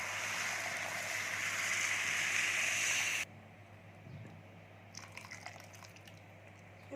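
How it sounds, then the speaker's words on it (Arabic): Hot boiled water poured onto basmati rice in a pot, a steady loud rushing pour for about three seconds that stops abruptly, followed by quieter faint drips and small splashes. "بعد ما قلبناهم مع بعض شوية هنبدأ نضيف المية، تكوني مجهزة مية مغلية سخنة"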